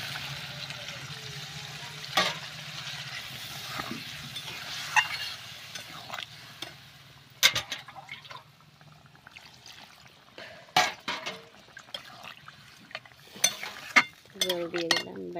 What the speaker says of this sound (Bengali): তো এবার কিন্তু আমি জল দিয়ে দেবো পরিমাণ মতো, যতটুকু ঝোল রাখবো।